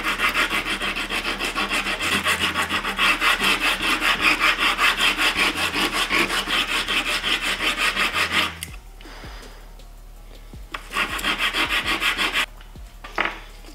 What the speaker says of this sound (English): I'm just gonna start sanding.